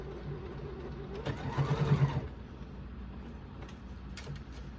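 A sewing machine runs a short burst of stitching through apron fabric, a rapid mechanical whir of about a second that rises, then stops, set against quiet room noise.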